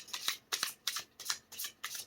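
Crisp riffling bursts of playing cards being shuffled, about six quick rhythmic runs in a row, close and fairly loud with no talking.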